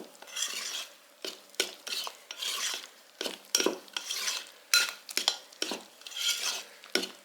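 Breakfast freezer-meal ingredients being mixed in a bowl, with repeated bursts of scraping and clinking from a utensil in an uneven rhythm, close and quiet, with no talking.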